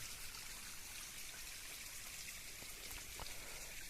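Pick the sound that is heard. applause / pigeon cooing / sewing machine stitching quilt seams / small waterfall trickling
small waterfall trickling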